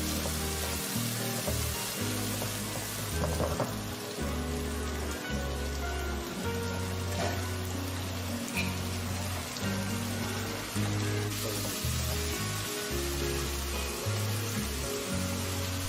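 Finely ground spice paste fries in a pan with a constant close hiss and crackle that continues unbroken, backed by a low pulsing musical beat.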